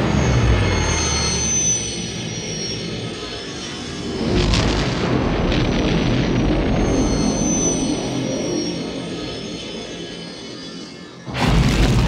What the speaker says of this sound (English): sometimes I would add an explosion or a thunderclap or even an animal roar like a lion underneath the sound of the airplane pass-by.